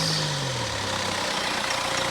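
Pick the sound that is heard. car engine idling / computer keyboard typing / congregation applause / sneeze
car engine idling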